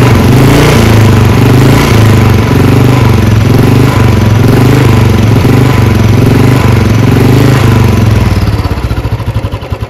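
A Royal Enfield Bullet 350 UCE single-cylinder engine runs loud and close at a steady idle, with a rhythmic thumping beat and mechanical clatter before it winds down into slower pulses near the end.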